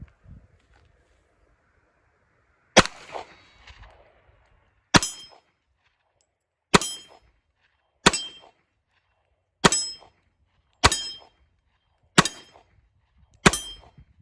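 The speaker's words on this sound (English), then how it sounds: "I'm gonna shoot for the steel target right ahead" Radom Vis 35 pistol shots ringing off a steel target outdoors, eight sharp metallic clangs spaced about every one and a half to two seconds, each followed by a short decaying ring, moderately loud against near silence.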